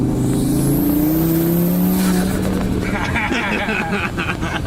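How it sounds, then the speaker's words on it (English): A sheriff's car passes by on a road, heard from inside another car, a Mk7 Volkswagen GTI, as a rising and falling whoosh of engine and tires over the steady cabin drone. "We're getting passed by the sheriff."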